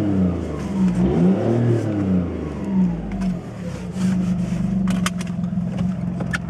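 A VW Lupo 3L fitted with a free flow exhaust revs from inside the cabin, the engine climbing and falling in several loud rising pulls before settling into a droning hum.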